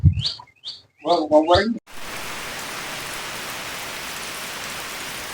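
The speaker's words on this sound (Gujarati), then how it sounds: "लाईव्ह वर्साद" After a brief burst of bird chirps and a few vocal sounds, steady rain sets in, a continuous even hiss of falling drops that lasts to the end.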